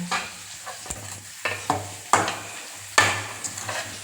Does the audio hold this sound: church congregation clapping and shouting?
no